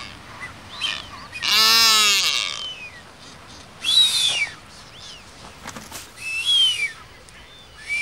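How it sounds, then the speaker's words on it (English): A few high, thin whistling calls of blue-footed boobies, one long drawn-out whistle followed by shorter ones, heard against a quiet outdoor background. "these blue-footed boobies emit their characteristic whistles when the breeding season begins"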